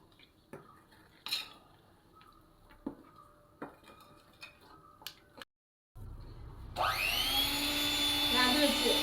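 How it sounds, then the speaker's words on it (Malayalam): Electric beater mixing sponge cake batter with added milk: clinks and taps of bowl and utensils first, a brief silence, then a loud, steady whirring motor that runs to the end. "അങ്ങനെ ഞാൻ ബീറ്റ് വെച്ചു കേട്ടോ"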